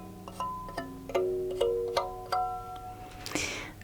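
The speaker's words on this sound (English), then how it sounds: "I'm going to play a little tune on this finger piano that I have here" Finger piano, or kalimba, plucked in a short tune of about eight bright, ringing metal-tine notes at an even, unhurried pace, close and clear, ending with a soft brushing rustle.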